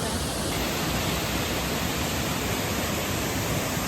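A jungle waterfall near Banlung in Ratanakiri, Cambodia, roars as a loud, steady broadband rush of falling water, close and unbroken.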